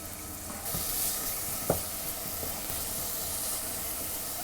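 Bolognese sauce with mixed spice cooking in a pan, giving a steady close sizzle and hiss, with one brief clink partway through.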